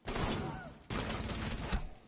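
Rapid gunfire in Rainbow Six Siege: two long, dense bursts of shots fill the clip, loud and close, with a short gap between them and faint voices underneath.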